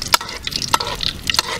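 Cashews roasting in ghee in a pan, stirred with a spatula: a handful of sharp scraping and clinking strokes over a faint sizzle, close and alone without voices.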